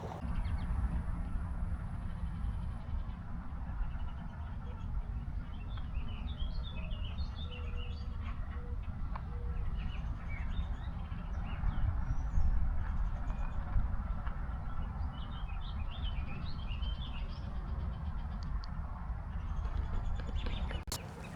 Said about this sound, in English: there is a warbling vireo over there, an eastern, which I had yet to get recorded